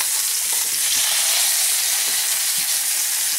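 Salmon fillets fry in a pan with a loud, continuous hiss and sputter, close up and unbroken for the whole stretch, with no talking over it.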